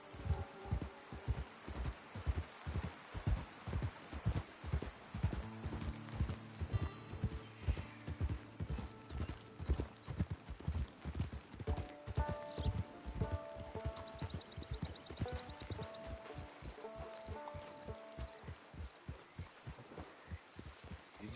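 Horse hooves clip-clop at a steady walking rhythm throughout, close and clear, in Red Dead Redemption 2, with faint game music and ambient tones beneath; no one talks.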